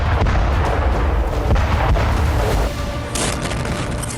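Artillery fire and explosions in the Russia-Ukraine war boom heavily in a dense, continuous barrage, loud and close, with a sharper burst near the end.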